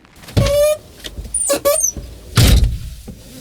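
Car door and interior sounds from a detective video game as characters get into a car: a door clunk and latch, a brief squeaky mechanism, then another heavy door thud, close and distinct with no talk.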